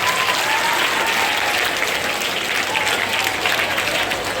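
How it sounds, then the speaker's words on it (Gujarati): An audience at a Mangal Bhavna farewell ceremony claps loudly and continuously, a steady wash of applause celebrating a birthday, with no pauses. "જોરદાર તાળીઓ બજાવો."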